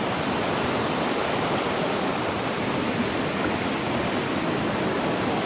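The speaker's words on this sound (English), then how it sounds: "this is standing down in the creek now" Creek water flowing steadily in a rainforest on a bush walk circuit, a dense, even wash of rushing water heard close and unbroken throughout, with no voices.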